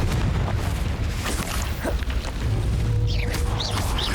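Explosive Confringo spell blasts in the Hogwarts Legacy video game, several dull booming bursts mixed with magical whooshes and sparkling effects over game ambience.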